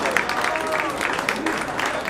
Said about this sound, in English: applause for you, John.